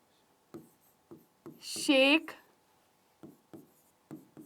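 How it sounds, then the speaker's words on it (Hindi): A word is written by hand in short, evenly spaced scratchy strokes, close and fairly crisp, interrupted by someone speaking briefly mid-way. "यहां पर मैं ना इसका नाम लिख के समझाती हूं, अनिषेक"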